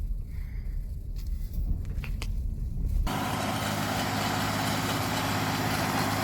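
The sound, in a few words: tractor trenching a field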